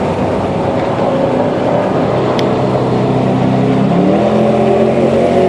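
A Dodge Charger R/T driving at speed past a group of cars including a new Mustang GT350, with a steady, loud engine drone and road roar throughout and a rising rev near the end.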